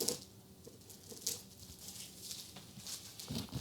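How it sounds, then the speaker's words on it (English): Plastic wrap being pulled and torn off a chocolate charlotte cake, with crinkly tearing bursts and soft rustles close by and no talking. "I think I'm just going to have to cut that plastic wrap off"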